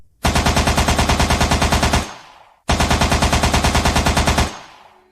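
Machine gun fire from armed men in an animated horror story, two loud sustained bursts of rapid shots, each about two seconds long with a short gap between them.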